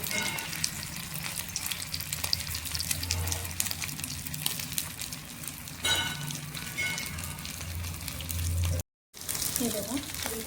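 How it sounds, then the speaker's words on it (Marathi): Aloo tikki, spiced potato patties, frying in a pan for street-style chaat, with a steady close sizzle and crackle running throughout, a brief break near the end. "हे बघा एकदम छान आपली आलू टिक्की फ्राय झालेली"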